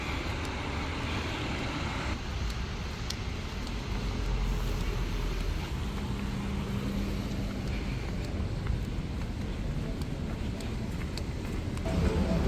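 Street traffic rolls past on a street in Annapolis, Maryland, a steady wash of passing cars and engine rumble at moderate distance with no talk heard.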